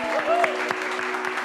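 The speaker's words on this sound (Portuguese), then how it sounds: "Uma salva de palmas." A short burst of audience applause greets a TV documentary segment introduction, dense clapping steady for the whole moment, with a faint voice and a steady tonal hum beneath.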